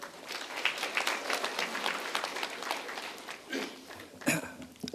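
An audience at a political party members' debate forum welcomes a speaker with applause, a dense sustained clapping that is heard from a distance and rather faint. A voice briefly comes through toward the end.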